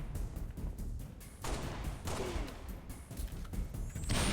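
Scattered Halo MCC gunfire and battle noise, a string of shots and impacts at moderate distance spread across a few seconds, with a thin whistling sound near the end.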